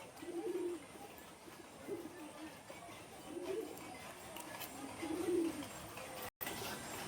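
Domestic male Gerebaz pigeons kept for sale coo in low, throaty phrases. Four coos come about every one and a half seconds, at moderate distance over a steady background hum.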